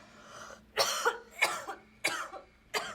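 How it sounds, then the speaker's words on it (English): Four harsh coughs in a row, evenly spaced and fairly close, each a short raspy burst with brief quiet gaps between them. "Don't cough on the baby."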